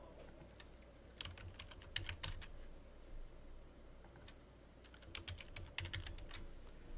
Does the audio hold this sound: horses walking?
no